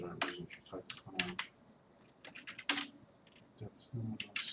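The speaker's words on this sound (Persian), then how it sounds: "چرا امروز اینجور تایپ کنم؟" Typing on a computer keyboard during a programming session, with bursts of clicking keystrokes in uneven clusters, close and moderately loud, with brief pauses between runs.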